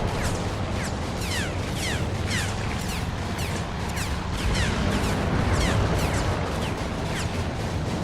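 Anti-aircraft guns firing from warships in the Task Force Admiral naval video game: a continuous dull rumbling barrage with rapid overlapping thumps and distant booms, steady and moderately loud for the whole stretch.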